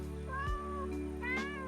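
A cat meows twice in a video game, clear rising-and-falling mews set over steady looping game music, with no talk.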